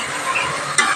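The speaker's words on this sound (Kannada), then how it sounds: "ಮಶ್ರೂಮ್ ಒಂದು ಸ್ವಲ್ಪ ಫ್ರೈ ಆಗಬೇಕೀಗ" Mushrooms frying in a pan for a mushroom pulao, with a steady close sizzle and stirring scrapes, and a brighter burst of sizzling near the end; no voices.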